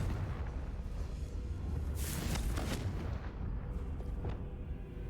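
A Confringo fire spell blast in Hogwarts Legacy bursts with a deep rumbling boom and a crackling fiery whoosh, followed by smaller pops as the low roar continues.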